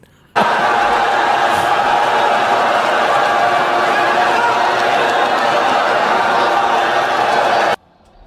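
A large crowd at a FlipTop rap battle roars loudly and steadily for several seconds, a dense wall of cheering and shouting that starts and stops abruptly.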